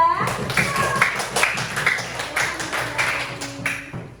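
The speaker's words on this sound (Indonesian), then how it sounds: "beri tepuk tangan untuk kelompok 3" Students in a classroom clap their hands for a group, a scattered, uneven patter of claps close by with some tonal chatter and voices mixed in.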